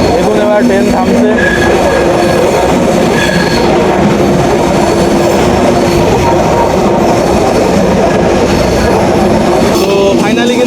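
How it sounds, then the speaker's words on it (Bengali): A Mahananda local train from Khulna pulls into Chuadanga railway station with a loud, constant rumble of wheels and carriages and thin squealing tones from the rails throughout. "দেখুন এবার ট্রেন থামছে।"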